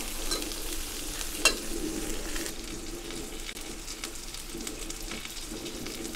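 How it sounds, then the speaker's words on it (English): About 150 grams of butter melts and sizzles on a Pit Boss Ultimate 2 gas griddle beside stingray, giving a steady close crackling hiss with a brief sharp pop midway and no talk. "Okay, what I will do now is to melt the butter."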